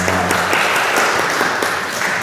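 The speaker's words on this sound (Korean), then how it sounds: "잠시에서 자리에서 일어나실 때 환영의 박수 하도록 하겠습니다" A church congregation at a Sunday service in Prague applauds to welcome visitors, a steady, close, full round of clapping filling the whole moment, with a voice briefly at the start.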